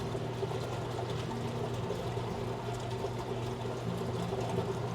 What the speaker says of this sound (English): when the sensor goes off, it pumps the water into the sump